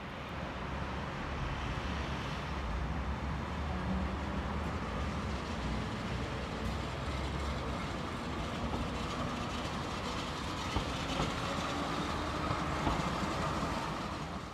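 A Brussels line 94 tram rolls around a single-track loop, a steady close rumble of wheels on rails with faint clicks and squeals throughout.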